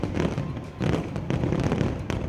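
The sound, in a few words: fireworks going off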